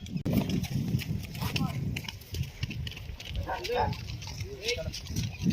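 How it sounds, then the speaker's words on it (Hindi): A mare gallops on a stud farm, her hoofbeats thudding at a moderate distance beneath someone talking throughout. "देखिए जब से गैलप भाग रही थी घोड़ी है"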